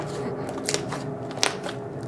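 Homemade blue slime crunches in a few crisp bursts as it is squeezed and stretched close up, with two sharper crackles standing out over a quiet room.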